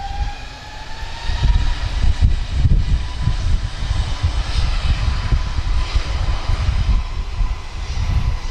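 An airliner powered by two LEAP 1A jet engines roars loudly and steadily at Lisbon Airport, with a broad rumbling drone and a faint rising whine near the start.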